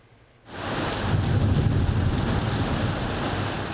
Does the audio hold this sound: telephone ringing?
no